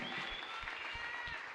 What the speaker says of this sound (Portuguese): And we can clap our hands for God.